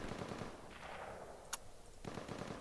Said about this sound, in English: That's the thing about a bolt action gun, boy. You gotta it's one shot, one kill